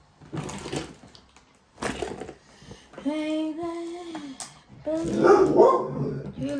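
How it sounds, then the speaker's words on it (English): A dog barks at passersby in short bursts, with a few sharp yips and a drawn-out whining bark, close by; a person speaks briefly between the barks. "She's barking at anyone that's going past."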